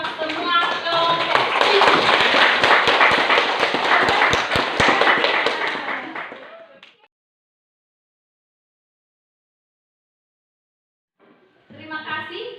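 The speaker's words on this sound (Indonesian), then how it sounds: "Kita beri aplaus untuk semua kelompok." Students in a 12th-grade classroom applaud their classmates' group presentations, a dense burst of clapping that runs about seven seconds before fading. Near-silence follows, and a brief voice returns at the end.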